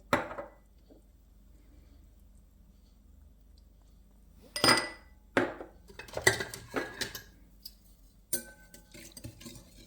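Batter of milk, sour cream, egg and salt for apple pancakes being stirred in a bowl, with scattered clinks and scrapes of a utensil against the dish, a few louder bursts of mixing, close and alone.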